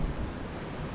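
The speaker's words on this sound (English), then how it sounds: "The wind is really bad" Strong wind buffets the microphone in an outdoor Scottish kirkyard, a continuous loud rumbling roar with gusty low-end bursts and no speech.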